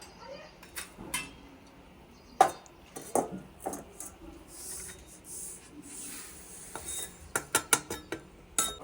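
Poppy seeds and sesame stir-roasted in a pan over a wood-fired stove, with soft scattered scrapes and light taps of a spoon, quiet at first, then a quick cluster of sharper clinks near the end.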